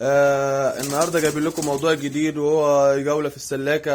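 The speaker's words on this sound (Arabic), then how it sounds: "هوريكم دلوقتي حمام بيزق تلات زغاليل" Pigeons coo inside a pigeon loft, their soft, throaty calls running steadily beneath someone speaking Arabic close to the microphone throughout.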